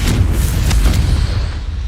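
Confringo spell blast in Hogwarts Legacy, a loud close booming burst with a rumbling low-end tail that fades over about two seconds.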